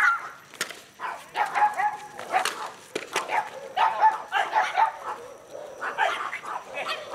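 Dogs at a guard-dog training demonstration bark and yip in uneven bursts, loud and close, with a few sharp cracks and voices talking in between.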